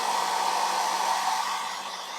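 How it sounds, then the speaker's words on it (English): Hair dryer blowing steadily at close range to dry paint on a Warhammer Warcry miniature, a loud, even whoosh and motor whine for about two seconds with no voices. "Man dries paint with hairdryer."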